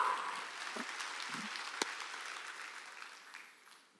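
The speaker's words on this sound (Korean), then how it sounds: "여러분이 이걸 믿으면 박수치라" A church congregation at a summer mountain revival service claps together, a faint, distant patter of many hands that runs steadily and then tapers off toward the end.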